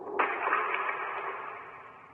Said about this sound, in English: Sounds like a rock falling.